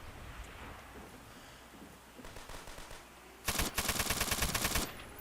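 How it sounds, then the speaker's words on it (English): Type 99 machine gun in a video game firing a dense burst of rapid shots, loud and close, after a few seconds of quieter background noise with scattered faint pops. "That's effective burst firing right there."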